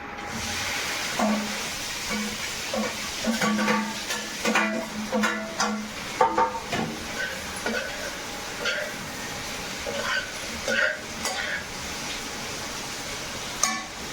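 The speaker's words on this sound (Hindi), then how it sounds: "ये मैं सारे आलू डाल दूंगी कढ़ैया में।" Sizzling and hissing from potatoes frying in a hot wok, with scattered metallic clinks and bursts of crackle over a steady background hiss.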